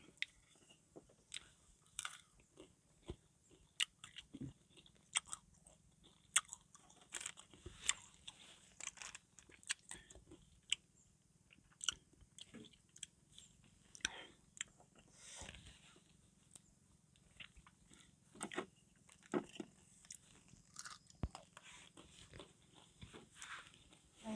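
Fresh young tamarind, picked straight from the tree, is dipped in salt and eaten outdoors by rice fields. Its crisp crunching bites come close and fairly faint as a steady run of sharp clicks and chews, with no talk.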